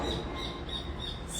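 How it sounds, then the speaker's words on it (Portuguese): Small birds chirp faintly in short repeated high calls over a low background wash, distant and quiet. "os passarinhos"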